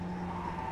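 Racing car braking hard in the iRacing Mazda Cup at Brands Hatch, a steady engine drone with a tonal tyre squeal running continuously and loud through the short moment.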